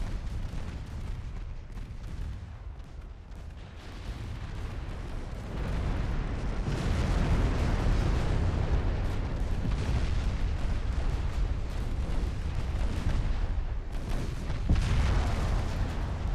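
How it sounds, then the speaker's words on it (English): Torpedo hits from a destroyer in Ultimate Admiral Dreadnoughts, naval battle set in 1913: deep rumbling explosions building into a sustained heavy roar, with several louder booming impacts layered near the end. "Ooh, torpedo hits from my destroyer unit."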